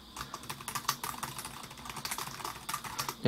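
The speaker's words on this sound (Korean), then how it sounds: "타이핑 해보면은 이 크기가 좀 많이 좁아서 작은데도 불구하고 타이핑이 되게 편해요" Typing on an LG 2-in-1 PC's compact keyboard: a fast, steady patter of crisp key clicks, close and alone, with a few louder taps mixed in.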